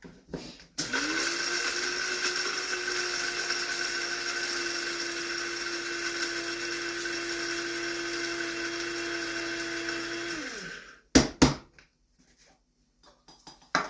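A blender grinds ingredients with rosemary in one loud, steady high-pitched whir lasting about ten seconds, then winds down, followed by a few brief clunks as it is handled.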